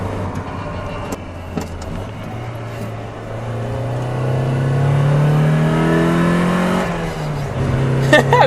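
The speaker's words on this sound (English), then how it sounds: "We hit this corner, give it some gas." A 1995 Mazda Miata NA accelerates out of a corner, heard from inside the cabin, its engine note climbing steadily in pitch as revs build, then easing off near the end.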